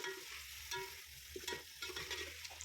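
Chicken and onions sizzle in a pan while a spoon stirs them, for a Hyderabadi masala leg-piece chicken biryani; a steady quiet fry with scraping clicks from the stirring, and no voices.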